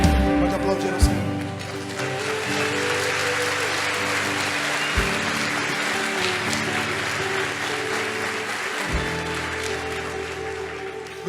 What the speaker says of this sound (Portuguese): Pode aplaudir ao Senhor.